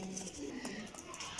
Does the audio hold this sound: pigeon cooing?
yes